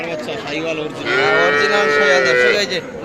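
A two-month-old bull calf moos loudly and close at a cattle market, one long drawn-out call amid crowd murmur.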